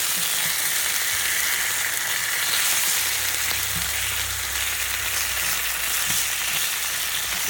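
Pork legs, boiled first to draw out the blood, fry in a pan with a steady close sizzle and crackle that holds for the whole stretch, with no talk over it.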